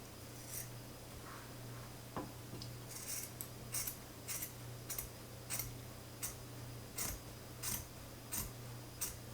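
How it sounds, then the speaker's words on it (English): Scissors snip through speaker grill cloth fabric on an AR-6 speaker, a steady series of short crisp cuts roughly every half second, close and fairly quiet over a low electrical hum. "I can just basically just slide these scissors right through the fabric"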